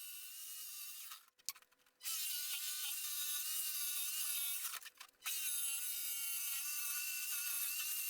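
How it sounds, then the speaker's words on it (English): A jigsaw cuts a hole in a wooden cupboard to fit a fan, a loud steady buzzing whine in two long runs broken by brief pauses, close up with no talking. "Here I'm using the jigsaw to cut a hole for the fan."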